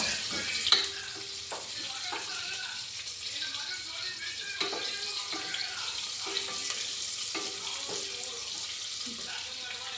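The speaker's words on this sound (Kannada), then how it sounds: "ಇವಾಗ ಒಂದು ಹಸಿಮೆಣ್ಸಿನ್ಕಾಯಿ 4ರಿಂದ 5 ಹಸಿಮೆಣ್ಸಿನ್ಕಾಯಿ ಅದನ್ನು ಸೇರಿಸ್ಕೊಂಡು ಚೆನ್ನಾಗಿ ಫ್ರೈ ಮಾಡ್ಕೊಬೇಕು" Four or five green chillies fry in a pan for a tomato bath, giving a steady sizzle with scattered clicks and stirring scrapes, and no talking.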